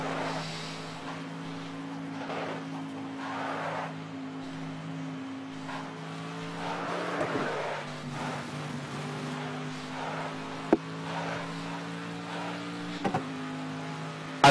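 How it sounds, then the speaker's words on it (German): GT3 race car in a racing game at Monza, the engine droning steadily with pitch shifts under braking, while tires squeal in drawn-out bursts and sharp clicks mark gear changes through the corners. "Dementsprechend werdet ihr jetzt gleich richtig schönes Reifenquietschen hören."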